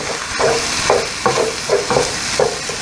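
Ground meat browning and sizzling in a pan as a potato masher breaks it up, giving about six rhythmic scraping, mashing strokes over a steady close sizzle.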